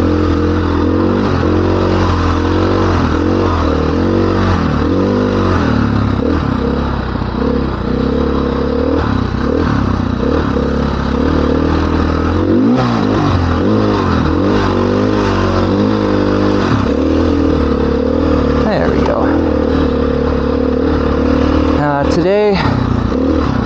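Dirt bike engine droning steadily while riding Rampart Range Trail 627, a green trail in Colorado, with revs rising and falling over rough ground and a rider talking throughout.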